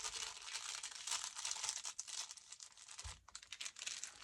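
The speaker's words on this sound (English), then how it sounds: "So I'm going to fold that in half." A sheet of paper folded in half while making a journal: continuous close crinkling and rustling with a few soft creases and a single low thump.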